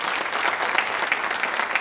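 An audience claps enthusiastically, a dense and even burst of many hands at close range that holds steady throughout, with no voices over it.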